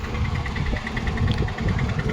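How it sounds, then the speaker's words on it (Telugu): A TVS Apache motorcycle engine idling after being started without its key, a steady low rumble with a faint rhythmic ticking pulse, close by and alone. "మన బైక్ అయితే ఆన్ అయిపోయింది"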